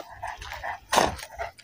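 Dogs bark and yip nearby around a sheep, one sharp loud bark standing out among smaller whimpering yelps.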